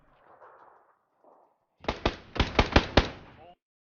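A gun in the game Ring of Elysium fires a quick series of about six sharp, loud shots close by, following a quiet stretch with faint murmuring.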